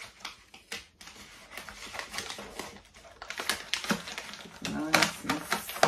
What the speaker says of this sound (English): And then we're just gonna tape her down.